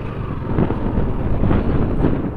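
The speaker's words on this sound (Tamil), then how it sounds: "காற்று பயங்கரமாக அடிக்கி." Strong wind blowing on the hilltop of Chekkarkiri hill near Thovalai, a loud, steady buffeting rumble against the microphone lasting the whole moment, with no talk.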